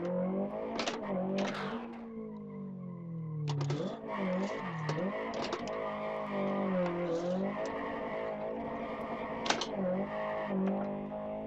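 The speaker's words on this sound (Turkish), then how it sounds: "Şöyle bir el freni." A Tofaş car in a driving video game, running the Ünal Turan Tofaş mod, with a steady engine drone that swoops up and down in pitch under sharp bursts like a handbrake skid. The sound is continuous and fairly loud, with no talking.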